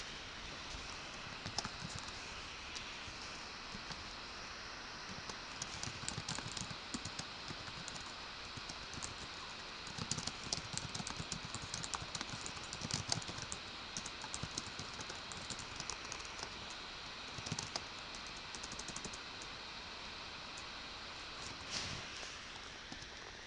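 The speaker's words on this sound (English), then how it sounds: "to spare you from having to sit through me typing different paragraphs" Someone types steadily on a computer keyboard while entering text for a web page, with dense, irregular key clicks throughout and no voices.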